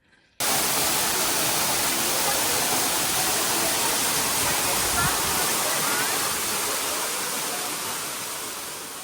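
A waterfall in Sequoia National Park, reached by crossing streams, roars as a steady, loud, broadband rush of falling water that starts abruptly and holds constant, fading slightly toward the end.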